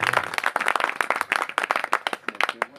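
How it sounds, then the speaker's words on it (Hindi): Audience clapping at a Hindi comedy poetry gathering, a lively burst of distinct hand claps from a modest crowd, fairly close and irregular, with no speech over it. "जोरदार तालियां बजा दो साहब।"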